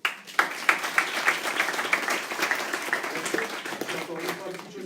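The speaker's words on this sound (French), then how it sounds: "Vous pouvez l'applaudir" Applause from a small audience at a clairvoyance conference session at a trade fair, a few sharp claps opening into scattered clapping that carries on steadily, moderately close, and slowly thins toward the end.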